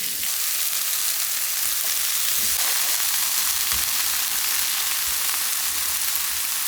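New-season onions pan-grill over high heat, giving a dense, continuous sizzle that stays loud and even, with a brief dip in the middle and no voices.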